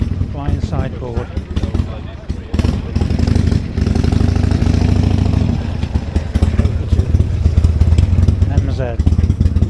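An MZ motorcycle engine runs steadily at a classic bike gathering outside a pub, a loud continuous throb with some clatter, with people talking nearby.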